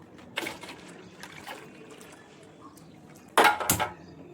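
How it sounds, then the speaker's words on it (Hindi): Hot water splashes into a vessel of wheat paste for kurdai papad in two short bursts, the second louder and sloshing, with soft clinks of utensils between pours. "फटाफट से इस गेहूं की चिक में गर्म पानी ऐड कर लेंगे।"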